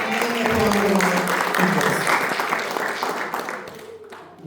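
A church congregation applauds steadily, a dense wash of clapping that holds for several seconds before thinning out toward the end.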